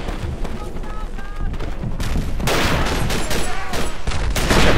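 Mortar fire and rifle gunfire in the Verdun video game rumble and crack in a thickening barrage of overlapping blasts that grow louder, with a voice briefly talking underneath.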